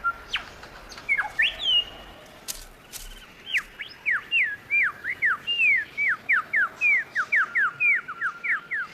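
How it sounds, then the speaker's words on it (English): A superb lyrebird calls nearby in a long run of loud, rapid, whistled sweeping notes, clear and rhythmic over quiet forest ambience. "it doesn't stop the display of a very special bird. The superb lyrebird."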